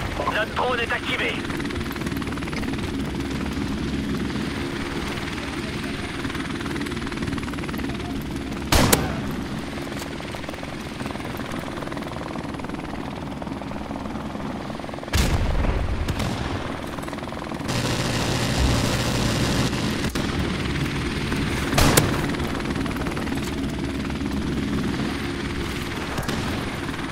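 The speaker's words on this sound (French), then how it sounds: "Hélicoptère ennemi en approche." Rotor thrum of an enemy helicopter in Call of Duty Modern Warfare Remastered, sustained and loud across a busy firefight with sharp gunshots and blasts, voices talking over it.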